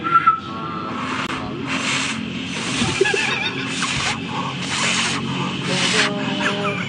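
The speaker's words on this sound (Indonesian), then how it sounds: "Malah gue tiup-tiup." A person tries and fails to whistle, blowing air through the lips in about six breathy, hissing bursts with only thin, wavering traces of tone, close and fairly loud.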